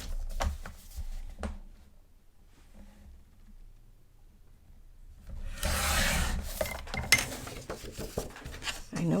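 Paper edges for a handmade autumn mini album are trimmed, with soft scraping and rubbing strokes, a quiet pause, then a louder burst of rasping cuts and rustling close by.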